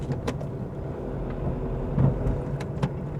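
A 2015 Honda City diesel is shifted down from fourth to third gear while driving, with a brief muffled clunk from the gear lever over a steady interior engine and road drone.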